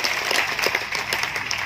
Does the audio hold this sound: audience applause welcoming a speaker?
yes